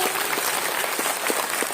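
A church congregation in Barwadih, Simdega claps loudly in praise, a dense steady burst of many hands filling the short stretch without pause.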